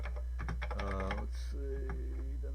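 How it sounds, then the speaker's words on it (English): Fingers typing on an MSX computer keyboard, a quick cluster of close clicking keystrokes over a steady electrical hum, with faint tonal sounds in between. "Yeah, this keyboard's fantastic."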